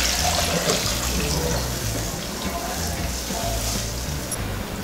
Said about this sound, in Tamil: புளி தண்ணி ஊற்றேன்.